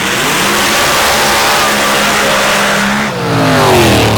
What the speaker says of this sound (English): we will see how the short wheelbase truck handles here in session 2